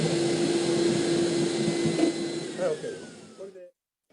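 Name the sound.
vacuum cleaner sucking water out of an old paper document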